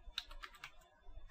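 Quick, quiet run of keystrokes on a computer keyboard as a command is typed into a Kali Linux terminal, several light clicks close together with no voices.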